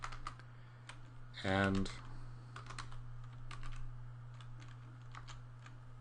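Java code is typed on a computer keyboard in clusters of close, light key clicks, with a brief steady hum partway through and someone speaking over part of it.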